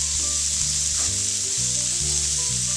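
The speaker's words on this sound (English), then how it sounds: "add the spinach back into the pot. Let it pick up all the butter and let it pick up all that garlic in there" Spinach sizzles steadily in a pot with butter and garlic, a close, continuous frying hiss with faint tonal hum beneath and no talking.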